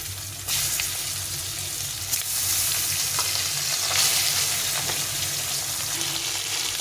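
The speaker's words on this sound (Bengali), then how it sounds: "মাছগুলো সব ভাজা হয়ে গেছে, উঠিয়ে নেব" A batch of hilsa-like fish frying in oil, giving a continuous close sizzle with soft bubbling, occasional sharper pops and some stirring, with no voices over it.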